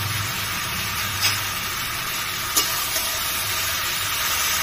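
Malabar spinach curry with mustard paste, cumin, green chilli and sugar sautéing in a pan, a steady close hiss of frying with a couple of faint spoon clinks, no talking.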